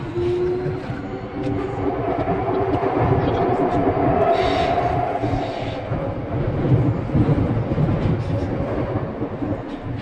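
A Vancouver SkyTrain bound for YVR-Airport runs steadily along the track, a continuous loud rumble and rail roar with swelling clatter throughout, no talk over it.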